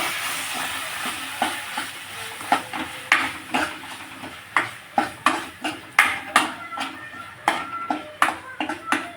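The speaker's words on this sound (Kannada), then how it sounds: "ಅದನ್ನು ಈಗ ಸೇರಿಸ್ತೀವಿ ಒಗ್ಗರಣೆಗೆ" Chutney paste sizzles in a hot tempering for village-style egg sambar, with a low hiss under a run of sharp, rhythmic scraping strokes as a spoon stirs the pan close up.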